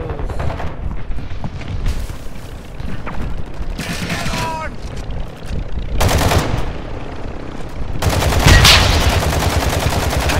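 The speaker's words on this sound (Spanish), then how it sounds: "Ametralladora ligera marcada." A light machine gun fires in Warzone during a firefight in a shopping mall, letting off several rapid, close bursts of automatic fire with pauses between them, mixed with other gunshots and in-game noise.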